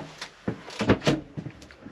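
Cutlery drawer in a 2023 Swift Freestyle Compact caravan kitchen being worked: a quick run of knocks, rattles and sliding clacks from close by, several sharp hits in two seconds.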